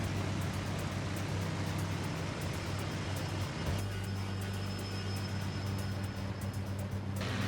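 Fighter aircraft in the IL-2 Battle of Moscow flight sim, a steady loud engine drone with wind roar, shifting in pitch midway as the plane banks hard left and right, no voices.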